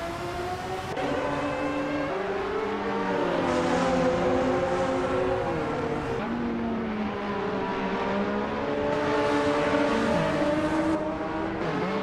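Racing cars overtake during a race, several engines droning and revving with rising and falling pitch as they pass at mid distance, layered and continuous without talk.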